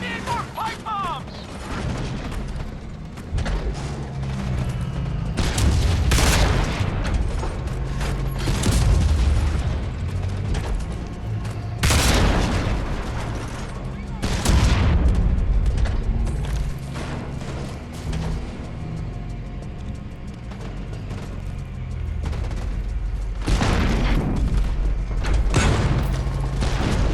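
Heavy rocket and pipe bomb explosions in the Homefront: The Revolution video game, with repeated loud booming blasts and bursts of crackling debris over a constant rumbling battle din.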